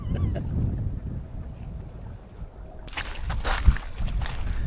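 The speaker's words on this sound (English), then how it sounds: "This wind's just blowing us back to where we started." Wind gusting across Ullswater during a packrafting trip buffets the microphone with a steady low rumble, then a brighter, rushing hiss joins for the last couple of seconds, with one sharp knock near the end; no one speaks.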